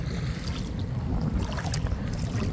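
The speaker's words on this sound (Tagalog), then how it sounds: "Naku, lakas ng hangin." Strong wind rumbling and buffeting a microphone, a steady low roar with gusty fluctuations throughout and no voices.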